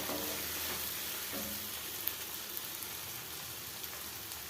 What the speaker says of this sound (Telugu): దంచుకున్న దాన్ని చిక్కుడుకాయల్లో కలుపుకోండి